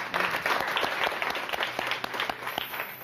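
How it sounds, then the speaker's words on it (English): An audience breaks into applause at an event, a steady wash of many hands clapping at moderate distance, with faint voices underneath. "let's have a round of applause for that"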